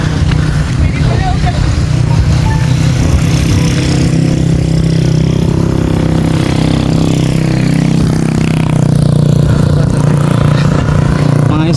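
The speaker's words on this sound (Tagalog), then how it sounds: "Tabi ka dyan, may motor." A motorcycle engine drones steadily up close on a mountain road on Mt. Samat in Bataan, Philippines, a loud continuous hum with shifting pitch as it passes, mixed with car engine noise and people talking throughout.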